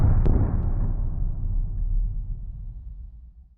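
A booming soundboard explosion effect on a talk show: one sharp burst followed by a long, heavy low rumble that slowly fades, heard alone with no talking.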